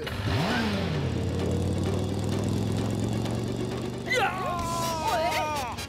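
Cartoon motorbike engine revving up and speeding, a steady mid-pitched drone under overlapping cartoon voices and music.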